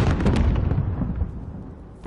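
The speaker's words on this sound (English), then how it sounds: "Oh, someone's shooting at me." Gunfire in a multiplayer shooter video game, a burst of loud rumbling shots and blasts up front that fades into a decaying low roar over about two seconds.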